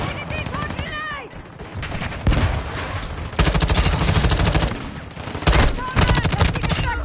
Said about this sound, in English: Tossing a decoy grenade!